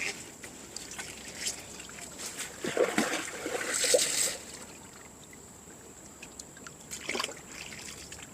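Strong river current, its water turned red, rushing and sloshing around a boat, a steady close watery wash with louder splashing bursts midway and brief trickles later.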